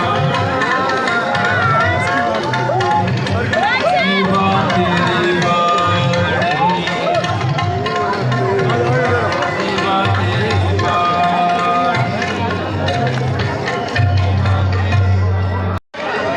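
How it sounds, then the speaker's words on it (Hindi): Large crowd of devotees gathered on the closing day of the 554th Prakash Parv gurdwara festival in Rajgir, a dense continuous hubbub of many voices and movement, steady and loud throughout with music-like tones over the babble. "ज़बरदस्त भीड़ है आज समापन के दिन।"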